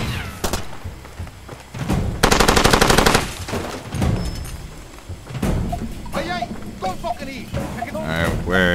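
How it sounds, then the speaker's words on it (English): An M249 machine gun fires in the video game Far Cry 2: sharp close bursts, including one long rapid stream of shots, mixed with thuds and game ambience while someone talks throughout. "This M249 really is pretty weak. Taking quite a few shots to kill him."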